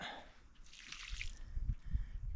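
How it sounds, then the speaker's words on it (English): Lukewarm water is poured under a snowmobile's skis to thaw ice outdoors. Soft trickling and dripping splashes come close and quiet, with a few louder low splats near the end. "But if you can get some lukewarm water in under there"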